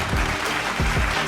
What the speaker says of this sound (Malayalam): സ്വാഭാവികമായി അദ്ദേഹത്തിന് നല്ലൊരു കയ്യടി കൊടുത്ത്.